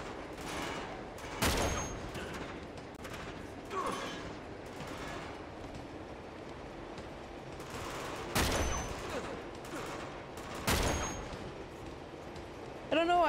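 Bursts of gunfire from the video game Uncharted 2: Among Thieves: sharp shots and short volleys break out at intervals over a steady noisy game backdrop, with speech audible in between.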